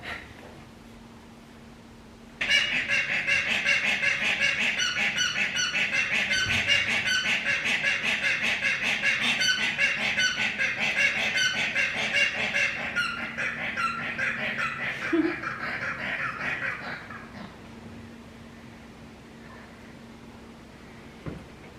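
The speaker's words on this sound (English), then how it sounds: "That sound were the native hens." Native hens call in a loud, raucous chorus over one another, sustained for about fifteen seconds before cutting off into quiet background.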